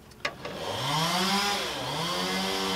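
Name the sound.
neighbors' chainsaw running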